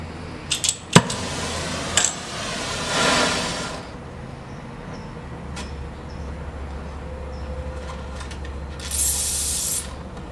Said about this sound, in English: we're going to turn on the acetylene just a little bit. We're going to take our starter and start this thing up.